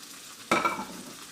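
Tuna hits hot oil in a pan with one sudden loud sizzle burst that quickly settles into a softer, steady frying hiss, with no talking.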